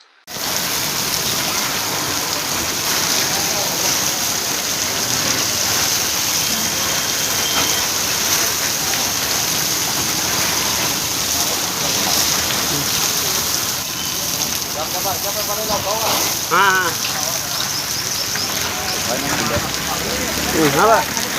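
Pressure washer spraying water over the walls of the Shri Mahalakshmi temple during cleaning before repainting, a steady loud hiss of jetting water running the whole time with a motor underneath and occasional voices in the background.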